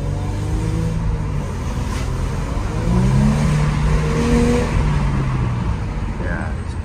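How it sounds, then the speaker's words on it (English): A Mercedes-Benz W212 on a test drive after its output speed sensor was replaced, heard as a steady engine and road hum from inside the cabin, with engine tones rising and falling. "I'm conducting a test drive to see whether everything is working."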